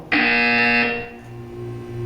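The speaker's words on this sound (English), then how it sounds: "When you hear the buzzer, look down at the floor." Buzzer from the video game Portal 2, a single loud, harsh electronic tone sounding for under a second, then fading into a lower background hum.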